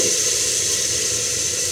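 Ginger paste sizzles in a pan over high heat, a steady, loud frying hiss with no pauses.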